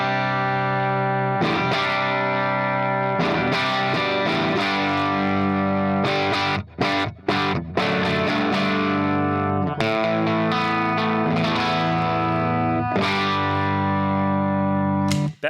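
A high-gain electric guitar played through an AIWA RB1011 MKII preamp, loud and continuous with heavily distorted sustained chords and riffs, a few short choppy breaks, no talking.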